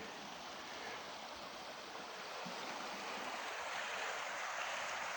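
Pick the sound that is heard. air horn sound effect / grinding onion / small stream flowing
small stream flowing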